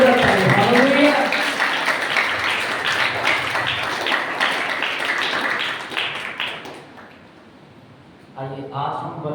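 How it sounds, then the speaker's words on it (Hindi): Loud congregation applause for Christ during a Hindi church sermon, dense clapping filling the room for about seven seconds before fading, then a voice starts talking. "आइए एक जोरदार ताली मसीह के लिए, जोरदार ताली"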